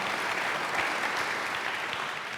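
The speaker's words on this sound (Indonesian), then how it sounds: "Tepuk tangan bagi Allah kita" Congregation applause at a church worship service, a dense, steady wash of many hands clapping for the full stretch at moderate loudness, with no voices breaking through.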